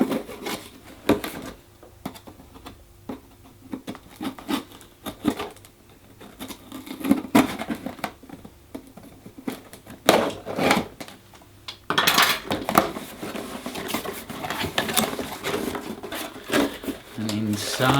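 A large knife cutting open a cardboard box, which holds a second box with a DVD steelbook, giving irregular scraping, tapping and tearing of cardboard close up, broken by clattery handling noises and a person talking throughout.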